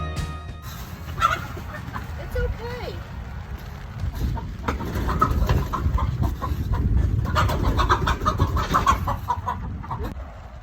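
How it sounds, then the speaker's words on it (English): Upset chicken inside a coop, clucking and squawking close by over steady rustling and broadband noise, continuing throughout. "disgruntled chicken is still in the coop"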